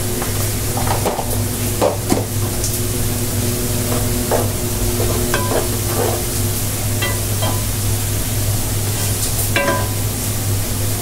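Onions browned in a pan with turmeric, cooking for a Malabar spinach dish, sizzle quietly and steadily. Scattered soft clicks of stirring and a constant low hum run underneath.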